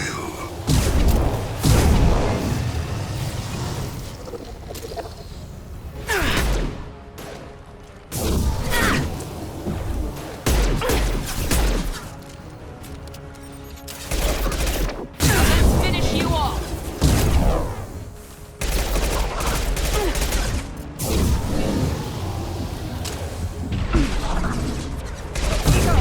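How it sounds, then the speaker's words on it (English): Heavy weapon shots and booming explosions crash through a Mass Effect 2 firefight, with repeated loud impacts, whooshes and brief lulls, while voices speak at times over the combat. "Firing a high-impact shot. This'll put them down."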